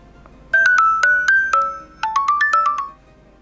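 A bright electronic alarm ringtone melody from a Samsung Galaxy Tab A11+ 5G tablet plays two short phrases of rising and falling beeping notes, clear and close, with no voices.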